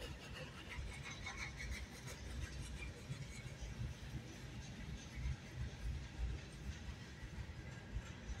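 A freight train rumbles past with a mid-train helper locomotive, a steady low roar of wheels and rolling cars with faint clatter, heard from trackside at moderate distance without talk.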